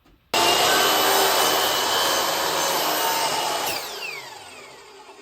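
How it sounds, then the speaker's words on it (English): A miter saw slices through a wooden roof piece for a wren outhouse birdhouse at a 10-degree angle: one loud, continuous cut lasting about three seconds, then the blade whines down as it slows. No one speaks. "keep the saw at a 10-degree angle, flip your piece over, and we're going to cut this end"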